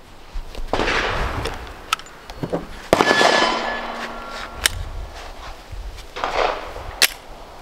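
Pistol shots from a Glock 43X or Canik Mete MC9 at a shooting range: several sharp, loud cracks spaced unevenly over a few seconds, each with a short ringing tail, with no talk over them.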